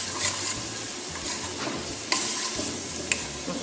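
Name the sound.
stirring and mixing ingredients in a pan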